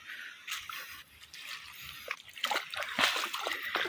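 Seawater flowing in at high tide over rocks, soft splashing and trickling with irregular drips and sloshes, faint and close, with no voices.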